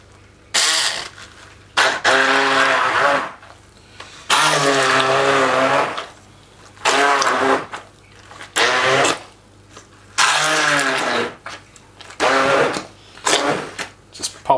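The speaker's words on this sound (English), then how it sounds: "Now I just want to get your stick blender." Stick blender pureeing strawberries and blood orange, whirring in bursts of one to two seconds with short pauses between, the motor pitch wavering as it churns the fruit, loud and close.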